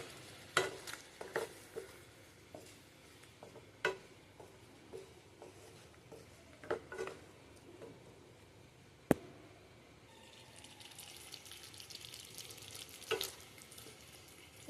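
A spoon stirs a curd, cashew and pointed gourd curry in a pan, with scattered scrapes and clinks over a quiet, low simmering background, ending with a brighter soft sizzle; no voices.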